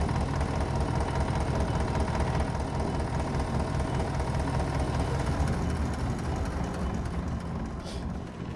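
A tractor engine idles while being parked in the Farm Restorer video game, a steady low rumbling drone held at an even level throughout, close and continuous with no talk.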